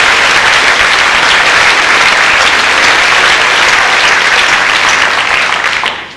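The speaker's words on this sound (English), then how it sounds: "Let's give our 8th graders a nice round of applause." Loud, close applause fills a middle school awards banquet as the audience honors eighth graders, thick continuous clapping that holds steady for six seconds before tapering off at the very end.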